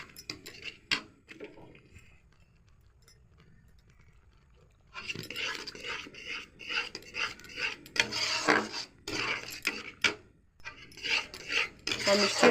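Milk thickening in a pan for a doodh bhaja sweet is stirred with a spoon, giving repeated scraping and clinking strokes against the metal, quiet at first and then busier and louder after a brief pause.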